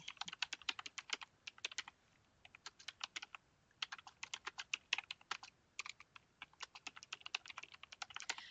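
Quiet, close clatter of computer keys typing a chatbot prompt, quick irregular bursts of keystrokes broken by short pauses, with no voice.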